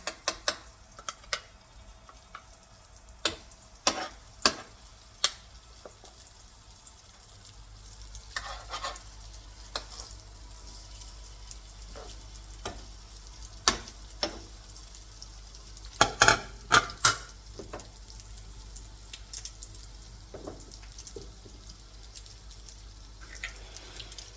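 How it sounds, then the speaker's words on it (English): Butter melting in a pan for an omelette gives a low steady sizzle, broken by sharp clinks and scrapes of a utensil against the pan, some in quick clusters. "See, the butter is melting."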